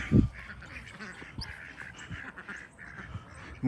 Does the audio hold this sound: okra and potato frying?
no